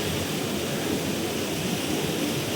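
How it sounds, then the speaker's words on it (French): Steady broadband rush of a clear mountain river with cascades, loud and continuous with no voices. "Ah, le bruit de la rivière, qu'est-ce que j'adore."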